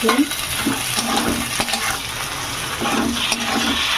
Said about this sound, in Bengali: এর মশলাটাকে তেলে একটু ভেজে নেবো সামান্য